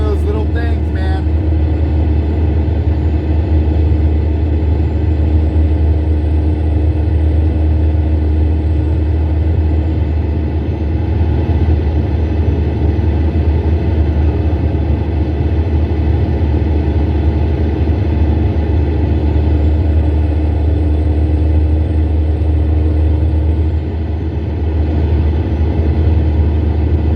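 Cars passing at Kansas Motor Speedway, a steady loud engine rumble that swells and fades as vehicles go by, continuous throughout with a low heavy drone.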